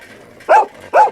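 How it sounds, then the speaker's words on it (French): A dog barks twice along a wire fence, two sharp, loud barks about half a second apart, with no talking. "il partit aboyer le long du grillage"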